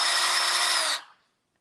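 A power drill driving a T25 screw at low speed gives a steady, close whir for about a second, then winds down and stops into silence, with no one talking.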